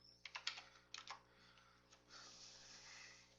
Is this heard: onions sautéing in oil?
no